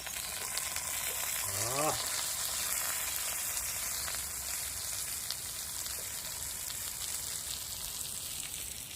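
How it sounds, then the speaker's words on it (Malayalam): Fish sizzles steadily in hot coconut oil in a pan, a dense, even frying hiss that runs throughout at moderate loudness, with a brief rising tonal chirp near the start. "ഇവനെ വെളിച്ചെണ്ണ ഇങ്ങനെ പൊരിയട്ടെ."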